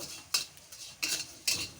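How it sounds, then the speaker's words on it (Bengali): A utensil scrapes through vermicelli frying in a pan three times, quiet strokes with short pauses between. "সিমাই ভাজছি ভালো করে লাল করে ভেজে নেব"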